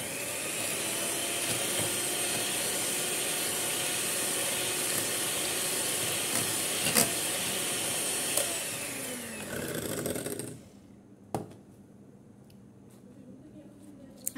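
An electric beater whips homemade ice cream mixture as sugar is added, giving a steady, loud whirring hiss for about ten seconds before cutting off, leaving a quiet background with a few small clicks.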